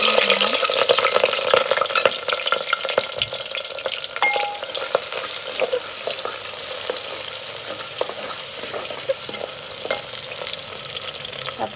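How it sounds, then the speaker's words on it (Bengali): Onion fries in oil inside a clay pot with a steady, dense sizzle that stays loud and close, with occasional scrapes of stirring and no talking. "পেঁয়াজটা একটু ভাজা ভাজা করে নিব।"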